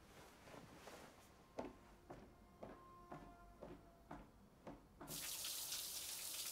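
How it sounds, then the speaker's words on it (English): Shower water switches on after about five seconds, a loud steady hiss that follows a few soft thuds and clinks in a quiet room. "I should grab a shower"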